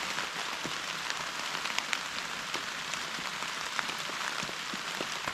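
Steady rain patters on the fabric of a Fjallraven Wind Sack emergency shelter, a dense, even hiss with scattered sharper drop taps throughout, close and continuous.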